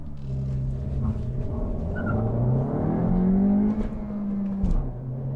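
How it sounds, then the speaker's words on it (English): A 2022 Honda Civic Si with a manual gearbox accelerates hard with brief wheel spin, its engine note rising steadily and loud before a sharp drop at a gear change, then climbing again. "Get a little wheel spin there."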